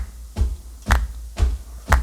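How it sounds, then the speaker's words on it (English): Dry, unprocessed hand claps and a foot stomp from a music track, four sharp hits about half a second apart, with a low thump alternating with a bright crack, close and loud. "Hand claps, foot stomp. That's how dry those hand claps are."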